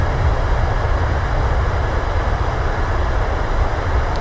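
An airliner in Microsoft Flight Simulator rolls out after landing with thrust reversers deployed, giving a loud, steady, broadband roar that holds constant throughout, with no talk.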